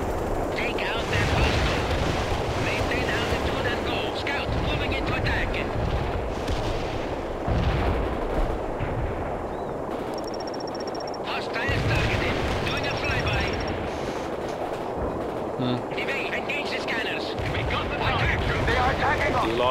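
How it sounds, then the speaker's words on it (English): Heavy artillery barrages in the World in Conflict strategy game: repeated booming blasts and rumbling impacts rolling on continuously, with brief higher electronic tones and a voice talking over parts of the barrage. "That's heavy artillery, by the way."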